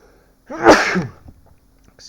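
A single loud, close human sneeze with a sharp burst, followed by a few faint rustles in an otherwise quiet room.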